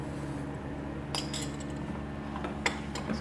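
A spoon clinks lightly against a metal pot a few times while stirring sugar into boiling milk for Kashmiri chai, soft scraping and tapping over a steady low hum.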